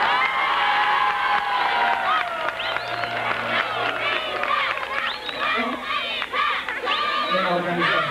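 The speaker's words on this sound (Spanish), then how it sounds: "pido un caluroso aplauso" Crowd at a town festival in Huisquilco, Jalisco, cheering, whooping and shouting loudly and steadily throughout, a dense close mass of voices with scattered higher cries and some talk mixed in.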